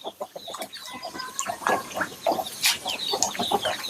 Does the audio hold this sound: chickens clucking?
yes